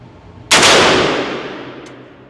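A single sharp AR-15 rifle gunshot fired while zeroing, loud and close, followed by a long fading echo across an outdoor range.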